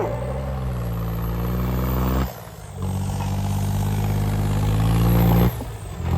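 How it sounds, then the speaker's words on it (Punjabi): A heavy tractor engine runs loudly and steadily at a village tractor competition in Punjab, a low droning rumble that dips briefly twice before picking back up. "ਇਧਰਲੇ ਪਾਸੇ ਆ ਗਿਆ ਟਰੈਕਟਰ ਆ ਗਿਆ ਟਰੈਕਟਰ"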